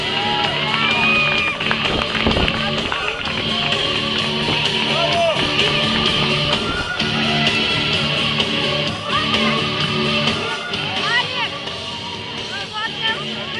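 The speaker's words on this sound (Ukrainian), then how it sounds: "Ваши аплодисменты!" Crowd at a live sport strongman show in Lviv cheers and whoops in a steady, loud roar, with shouts and whistles rising above a dense babble of voices throughout.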